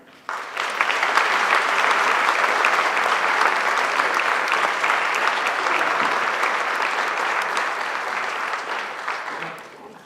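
An audience at an early childhood education conference claps steadily to welcome a keynote speaker, a dense, sustained round of applause that begins abruptly and holds strong for nearly ten seconds before tapering off.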